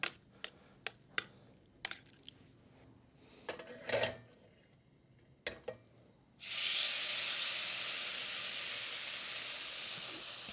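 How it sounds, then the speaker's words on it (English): Pork hits an oiled pan at a holiday cooking demo: after several sharp clicks and clatters of handling, a loud sustained searing sizzle bursts in and continues steadily to the end. "we're going to go ahead and sear the pork"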